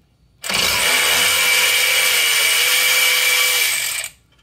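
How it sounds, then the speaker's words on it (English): A power wrench spins loose a pinch bolt on the suspension of a 2022 Tesla Model 3 Performance, making one loud, steady whirring burst of about three and a half seconds that starts and stops abruptly. "I'm gonna remove this pinch bolt up here."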